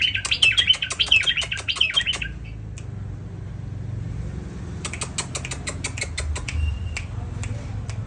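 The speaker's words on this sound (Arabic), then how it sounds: "شلون هذا البلبل؟" A bulbul sings in bursts of bright, rapid chirps, a dense phrase up front and then a second run of sharp notes after a short pause, close and fairly loud over a steady low background rumble.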